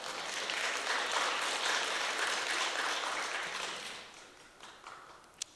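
A burst of applause from a church congregation during a sermon, loud and sustained for a few seconds, then thinning out into a few scattered claps.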